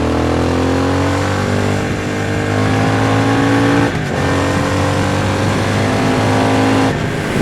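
A 2023 Triumph Speed Twin 1200 motorcycle accelerates hard on the road, its loud, close parallel-twin engine note climbing steadily through the revs, with a brief dip around a gear change and no talk over it.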